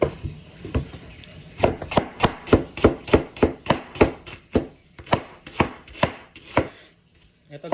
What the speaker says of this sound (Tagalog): Tapos slice na natin yung onion.